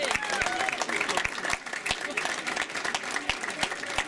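A packed house at an Irish country music celebration gives a big round of applause, dense steady clapping filling the room for several seconds at full strength, with a few whistles riding over it.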